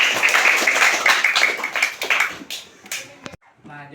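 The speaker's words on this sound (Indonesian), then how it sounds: "Tepuk tangan buat semuanya" A classroom of students claps together for everyone in a quick, dense burst lasting a few seconds, then it tapers off and a voice starts speaking.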